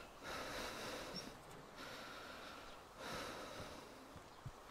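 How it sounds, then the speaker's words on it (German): A DayZ video game character breathes heavily: two or three deep, rough, rasping breath cycles close up, fairly quiet, alone with no talk. "atmet dein Charakter ziemlich heftig"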